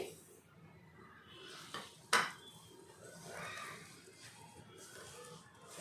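Sesame seeds are stirred into a soft jaggery ladoo mixture in a pan, giving quiet scraping and stirring sounds with one sharp metallic clink midway, faint and close.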